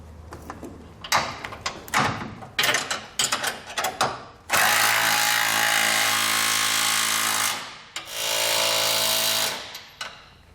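An impact tool fires in short bursts, then a long sustained run of rattling hammering, as trailer hitch bolts on a TorkLift SuperHitch are tightened, loud and close with brief pauses between bursts.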